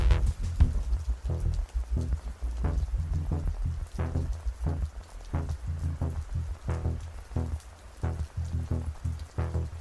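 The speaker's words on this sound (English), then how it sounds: "you hear the sound of rain falling all around you" Steady rain falls all around, dense patter of drops with irregular louder splashes, close and continuous with no voices.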